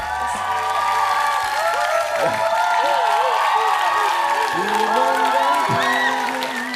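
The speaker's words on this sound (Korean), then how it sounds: "힘찬 박수 부탁드리겠습니다" A crowd cheers and whoops for a band at a live music show, loud and steady throughout, with shouts and whistles standing out over the clapping.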